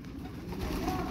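Pigeons coo softly in a loft, low rounded calls repeating faintly against a quiet background for about a second.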